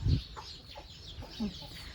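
Chickens cluck softly in a rural garden on a cool morning, with a few short, moderately close clucks and a low thump at the start.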